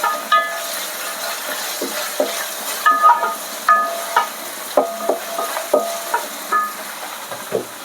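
Onion paste and ginger-garlic paste frying in oil for Telangana-style chicken curry, a steady close sizzle broken by repeated sharp scraping knocks of a spoon stirring against the pan.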